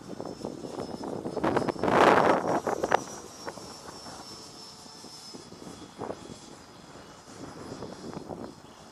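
A Freewing Stinger 90 mm electric ducted-fan model jet flies past outdoors, its whooshing engine roar swelling loudest for a brief moment before fading into a steady distant hiss, with wind noise buffeting the microphone.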